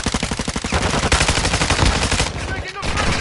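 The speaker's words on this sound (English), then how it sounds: "Oh, I got sniped to the right." Rapid bursts of gunfire in the Warzone video game, loud and close, with a fast rattling rhythm of repeated shots that breaks off briefly before resuming.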